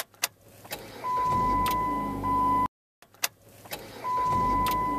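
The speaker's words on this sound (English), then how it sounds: "To make the sound of a vehicle starting, start a vehicle." A vehicle engine cranks and catches, settling into a steady idle, then the start repeats after a brief cut; close, moderate level, with a few clicks and a faint whine alongside.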